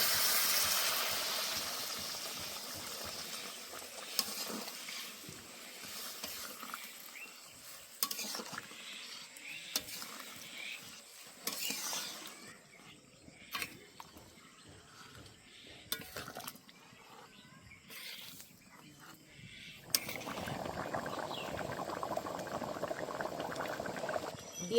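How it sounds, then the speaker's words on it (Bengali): Boiling water is added to a jackfruit and prawn curry in a pot, giving quiet bubbling and simmering with scattered utensil clinks and stirring scrapes, then a fuller surge of boiling toward the end. "একদম ফুটানো জল দেবেন, তাহলে কিন্তু খেতে খুব সুন্দর হয় রান্নাটা।"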